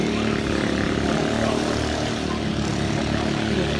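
Long-tail boat engine roaring continuously at close range, a loud, rough, steady drone with no breaks, on the water near Kanchanadit, Surat Thani.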